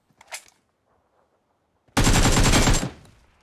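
A loud, close burst of automatic gunfire in a shooter video game rips out for about a second after a faint earlier shot, then cuts off into quiet.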